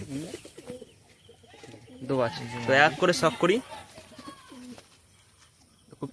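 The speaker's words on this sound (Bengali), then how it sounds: "খুব ছটপটে পায়রাটা।" Pet pigeons, a breeding pair including a restless hen, coo in soft bursts close by while someone talks over them.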